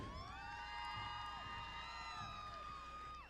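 A pow wow crowd at the United Tribes contest dancing cheers for a dancer, with faint, distant high whoops and ululating cries held over a low murmur.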